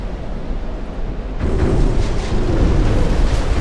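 Torpedo salvo hits exploding in the naval game Ultimate Admiral: Dreadnoughts, a low rumbling roar of blasts swelling midway and holding as a continuous, booming wash, with no talk.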